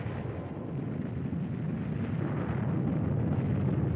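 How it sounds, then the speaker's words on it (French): Trinity atomic bomb test, a 20-kiloton explosion: a loud, sustained, deep rumbling roar that stays steady and continuous throughout, with no voices. "Les caméras filment sous tous les angles cette explosion de 20 kilotonnes."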